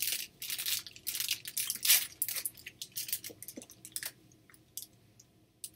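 Crunchy peanut butter and toasted coconut candy, a Chico Stick, being chewed up close: loud irregular crunches and bites that gradually taper into softer, sparser chewing, with no talking.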